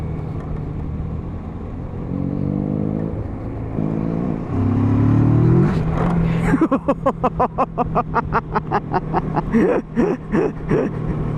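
A motorcycle on a North Yorkshire tour accelerates hard while pulling wheelies, its engine rising in pitch through the gears and then pulsing in a rapid, loud rhythmic throb, close and alone.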